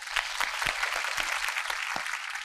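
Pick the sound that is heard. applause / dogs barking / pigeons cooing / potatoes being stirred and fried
applause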